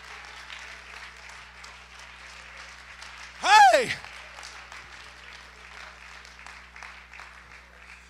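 A church congregation claps in praise during a sermon, the clapping faint and distant throughout, broken midway by one loud, sliding shout from a man.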